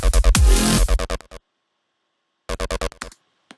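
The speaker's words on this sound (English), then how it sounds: "just the massive patch sounds like this" An acid bass synth patch built in Native Instruments Massive fires rapid, punchy stabs in quick bursts, then goes silent, then returns with another short run of staccato hits.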